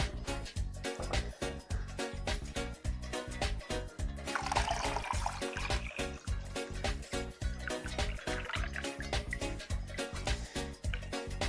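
Coconut water poured from a freshly opened coconut for an Otai fruit punch, a steady close liquid stream splashing and trickling into a container throughout, with a fuller gush midway and no talk over it.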